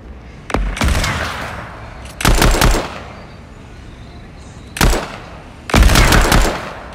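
Several bursts of automatic gunfire in the video game Fortnite, four separate volleys spread over several seconds, loud and close, with a steady low background between them.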